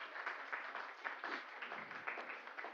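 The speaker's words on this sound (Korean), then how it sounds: "박수로 환영해 주시기 바랍니다." A church congregation applauds to welcome a member, giving soft, steady clapping that sounds distant and faint and continues without a break; no voices.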